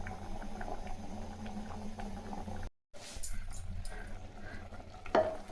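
Close-up scraping and squelching as a spoon stirs and mashes thick, soft cooked lentils in a pot, pausing briefly midway, then resuming.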